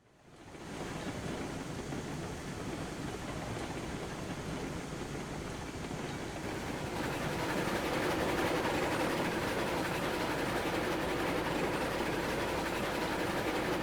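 A freight train hauling lumber rolls along rails in the game Railroads Online, a steady rumbling roar with faint clickety-clack that swells louder about halfway through, with no talking.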